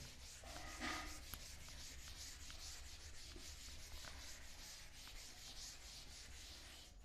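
A duster or eraser rubs writing off a classroom board during a physics lecture, giving a steady, close scrubbing swish that runs for several seconds, with a brief louder scrape near the start.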